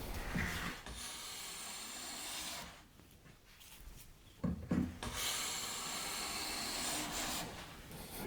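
A freshly tuned hand plane with a fully prepared blade takes wood shavings in two long, soft rasping strokes, close and quiet, with a short pause between them.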